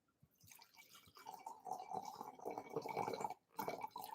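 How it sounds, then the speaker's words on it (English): Wine glugs from a bottle into a glass in a close, faint pour that starts after a moment, wavers and breaks briefly before resuming. "The exciting wine pour for the evening."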